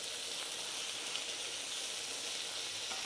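Chicken breast slices sizzle steadily in a frying pan after being turned, a close, even hiss running without pause and with no talk.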